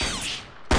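A single loud sniper rifle shot in the video game Blood 2: The Chosen bursts in near the end, cutting through a hissy, reverberant game background, no voices.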